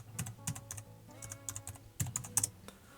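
Fingers type a short word on a computer keyboard, quiet close clicks in quick irregular bursts with brief pauses between.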